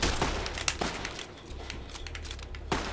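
Gunfire in the Fallout: New Vegas video game rattles in quick bursts of close, sharp shots, with pauses between volleys.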